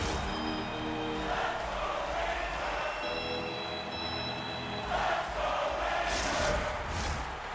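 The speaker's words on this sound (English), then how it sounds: "The crowd is frustrated, including the bench." Steady crowd murmur and groaning from a frustrated hockey crowd at a Toronto Maple Leafs vs New York Rangers game in NHL 25, a continuous arena roar that swells briefly near the end.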